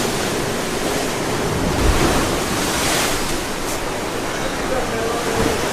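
Sea water surges loudly into a cave at Crystal Cove on Boracay with a continuous rushing roar, close by and mixed with gusty wind buffeting the microphone.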